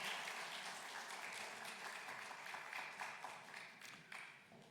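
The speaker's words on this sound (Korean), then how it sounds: "우리 박수로 격려하겠습니다." A church congregation applauds during a Lent devotional service, steady, quiet group clapping heard from a distance that continues evenly for several seconds.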